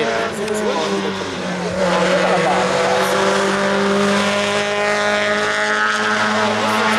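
A rally car drives the nighttime Oropa special stage of the 31st Rally della Lana. Its engine roars loud and sustained with dense, steady noise, while nearby spectators talk over it.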